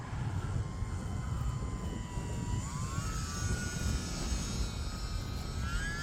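A small UMX Turbo Timber radio-controlled airplane flies in wind, its faint electric motor whining steadily with pitch rising and shifting as it manoeuvres over a breezy outdoor background.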